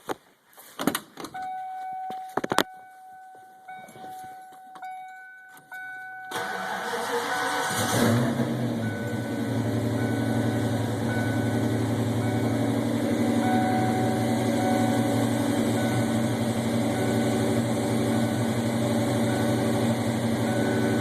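1993 Ford Mustang LX V8 with a custom cam and ported intake, inside a garage: a few clicks and a door-chime tone, then the starter cranks and the engine catches into a loud, steady, lopey idle that keeps running.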